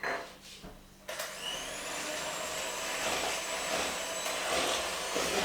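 An electric hand mixer whirs steadily and loudly after a brief pause, beating eggs one at a time into chocolate cake batter, with a continuous motor drone throughout.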